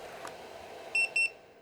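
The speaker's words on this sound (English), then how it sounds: "And there's your low flow alarm." Low flow alarm on a MicroClimate Air3 powered respirator: two short, bright electronic beeps about a fifth of a second apart, sounding clearly over a quiet room hum.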